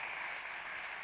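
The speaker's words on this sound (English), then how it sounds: "For that round of applause." A brief wash of audience applause in a church setting, dense and steady but faint and distant, lasting about a second.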